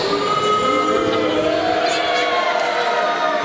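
A wrestling crowd reacts loudly to the opposing tag team's entrance at an ICW tag title match, giving a sustained, dense roar with voices chanting and shouting throughout.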